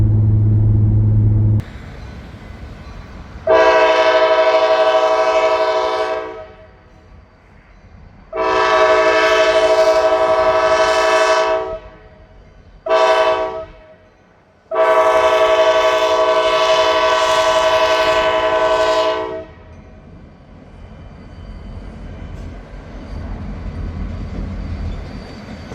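Freight locomotives pull a mile-long train, their horn sounding loud and nearby in several long blasts with short breaks, over a constant rumble of the passing train and rail cars.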